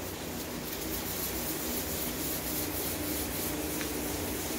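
Steady, continuous hand-sanding of a pinball machine's clear coat with 1000 grit sandpaper, a close, even rubbing hiss without pauses or voices.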